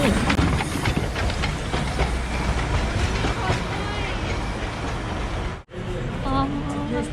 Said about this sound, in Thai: เป็นรถไฟหัวจักไอน้ำที่ถูกใช้มาแล้ว 143 ปีเลยนะ